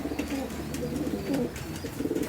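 An Amritsari breeder pigeon about one and a half to two years old coos in low repeated bursts, close and moderately loud, with a soft background hiss and no talk.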